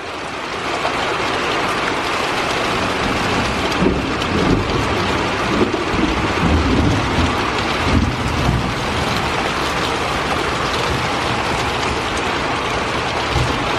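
Heavy rain pours steadily and loudly, with low thunder rumbling through it and faint traces of hail, a dense continuous roar with no voices.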